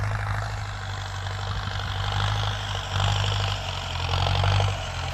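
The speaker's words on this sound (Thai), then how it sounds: "เนี่ยรถไถโกแขกแรงไม่ออกเลยวันนี้ ดินแข็ง" A Ford 5000 turbo tractor ploughs hard, dry paddy-field soil, its steady low diesel drone swelling in a few heavy surges as it strains under load, with no voices.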